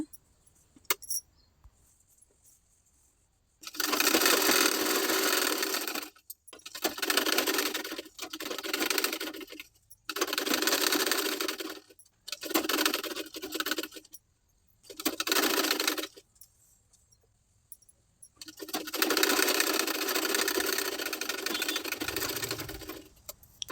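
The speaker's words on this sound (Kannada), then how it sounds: "ಈ ರೀತಿ ಬ್ಯಾಕ್ ನೆಕ್ಗೆ ಲೈನಿಂಗ್ ಹಚ್ಚಿ ಸ್ಟಿಚ್ ಮಾಡ್ಕೊಂಡಾಯಿತು." A sewing machine stitches lining onto the back neck of a plain blouse, running in several loud bursts of steady whirring separated by short pauses, with the longest run at the end.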